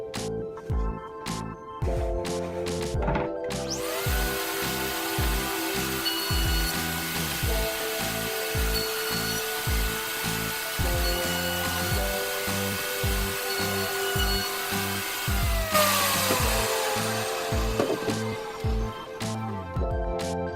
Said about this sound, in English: I'm going to take my top and I'm going to run it to the router table